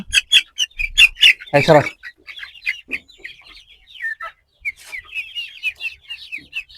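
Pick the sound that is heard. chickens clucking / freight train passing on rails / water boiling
chickens clucking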